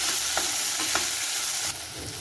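Tomatoes stirred and frying in a pan for a matar paneer, a steady close sizzle with a few soft scrapes of the spoon through it, no voices.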